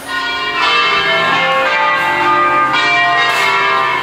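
Church bells ring in an Italian town, a loud sustained peal of overlapping tones that swells and carries on without any talking.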